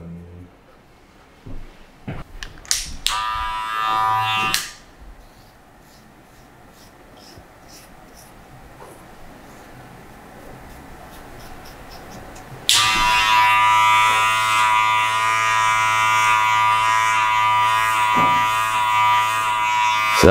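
Hair clippers with a long attachment cutting the top of a person's hair during a low fade haircut: short buzzing bursts early on, a quiet stretch, then a loud, steady electric buzz running to the end.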